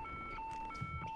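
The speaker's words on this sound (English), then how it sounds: "Uh-oh, there goes the alarm." An alarm goes off in the Hitman stealth game, a steady electronic tone cycling in short repeated beeps, fairly quiet and playing alone.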